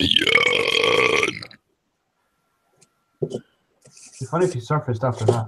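A loud, drawn-out burp rings out alone at the start, followed by silence and then someone talking.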